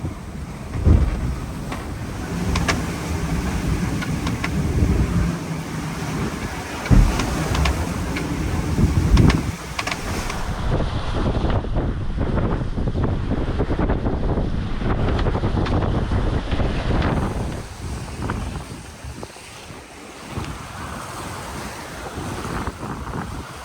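A sailboat close reaching at about 10 knots across the southeast trade winds under a reefed main and full jib, with a steady rush of wind and water and waves washing along the hull, continuous and close.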